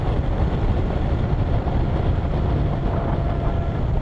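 A 2020 Kawasaki Versys 1000 motorcycle engine runs steadily in a smooth, even drone, heard close and continuous without any talk.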